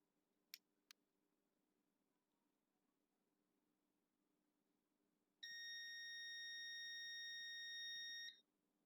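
A digital multimeter on continuity mode beeping while a Samsung M11 phone board is tested: two faint clicks, then a single steady high-pitched tone holding for about three seconds over quiet room hum.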